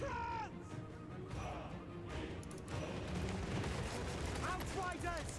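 Dense, continuous gunfire from a video game battle rains on stone trolls, with rapid overlapping shots and harsh bird-like cries over a busy, loud battlefield din.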